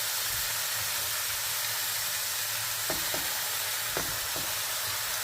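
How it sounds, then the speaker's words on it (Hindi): Beef trotters and shank bone marrow sauté in a pan with a steady, close sizzle and hiss, broken by a few sharp scrapes of stirring near the end, with no talk. "तो बस मैं अब इसको भूनने के लिए लगी हूँ"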